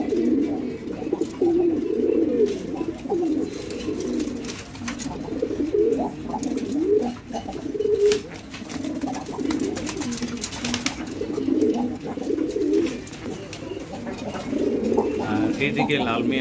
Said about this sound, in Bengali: এইদিকে লাল মিয়া আর লাল বিবির ডাক দেখে বা জোড়া নেওয়ার একটা সময় দেখে এখানে দেখুন এই পায়রাটা কী করে।